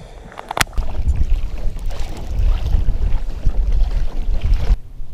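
Wind gusting across a lake while fishing for predatory fish from a boat, a rough low buffeting roar on the microphone that swells and fades, with a sharp knock near the start.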